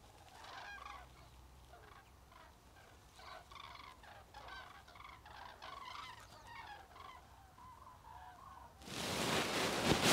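Cranes call repeatedly in the Camargue in winter, giving a steady run of overlapping honking cries at moderate distance. A burst of loud rushing noise near the end covers the calls.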